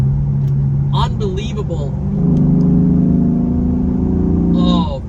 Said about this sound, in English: it sounds better, in my opinion, because of the intake noise